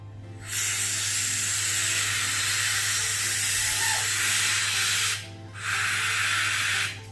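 Gas from a brand new tank hisses steadily and loudly into a clear LED heart balloon being inflated, a broad continuous rush that cuts off briefly near the end and then resumes.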